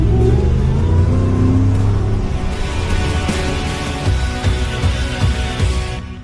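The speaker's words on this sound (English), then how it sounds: "Add in the whine of the supercharger and the deep rumble of the Baller Performance exhaust" A 755-horsepower Ford Shelby F-150 Super Snake pickup with a supercharger and Baller Performance exhaust charges hard. Deep exhaust rumble rises under a climbing whine, loud and close, and eases slightly toward the end.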